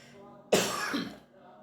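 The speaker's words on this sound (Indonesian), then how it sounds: "Maaf, saya lagi batuk." A single harsh cough bursts out close by, loud and lasting about half a second before fading back to a quiet room.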